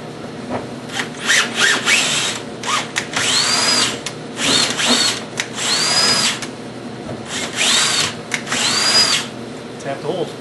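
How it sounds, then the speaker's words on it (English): A power drill works through holes for mounting a fixed laser in a linac facility, running in several loud, close bursts of whirring with short pauses, while people talk nearby. "Drill the holes, we need to tap the holes."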